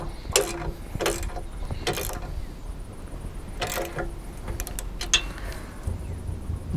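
A hand ratchet turning a 19 mm socket to tighten a bolt on a Jeep roof rack, sharp repeated clicking strokes in short bursts with pauses between, close and distinct over quiet outdoor background.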